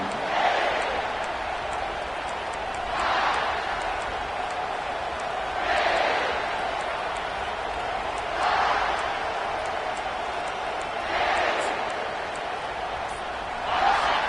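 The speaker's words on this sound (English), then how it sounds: "This crowd, full throat, splitting the eardrums and letting him know it's going to be a long day" A packed stadium crowd at an American football game roars loudly in a sustained wall of noise, swelling into louder surges every few seconds.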